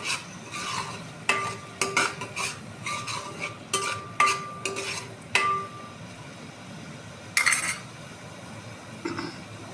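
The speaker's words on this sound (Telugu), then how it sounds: "అయినా సరే కొంచెం వేపుదాము, ఒక 2-3 మినిట్స్ వేపి" Onions fried and stirred in a pan, rhythmic scraping strokes of a spoon in bursts over a low sizzle, then a pause and one last scrape.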